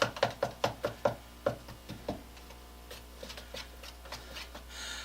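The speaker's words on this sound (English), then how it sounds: "I'm going to stir it up in there so that it" A stick stirs truck bed coating in its container, first a run of evenly spaced knocking taps against the sides, then softer scraping and sloshing strokes, close and quiet with no talking.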